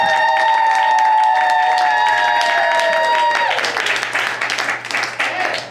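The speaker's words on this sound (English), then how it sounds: "Round of applause." At a live comedy game show, a sustained electronic tone rings out first, then the crowd breaks into applause with scattered claps and possible cheers over the final couple of seconds.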